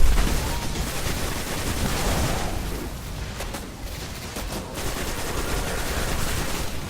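Auto rifle fire in the video game Destiny: dense, rapid bursts of gunfire that carry on steadily for the whole stretch, loud and busy with no talking.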